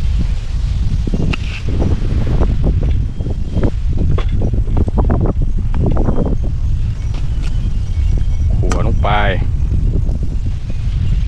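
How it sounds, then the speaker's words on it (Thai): Wind blows outdoors at a field-side cooking spot, rumbling and buffeting the microphone continuously while someone talks over it. "ลม"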